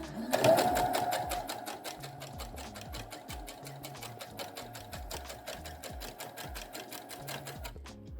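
A sewing machine stitching rows of quilting with a quilting guide bar, a fast even mechanical clatter at close range, with someone talking over it.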